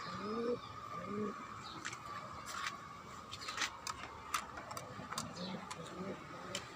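Pigeons coo softly on a rooftop vegetable garden, repeated low murmuring calls with a few sharp ticks and taps mixed in against a quiet outdoor background.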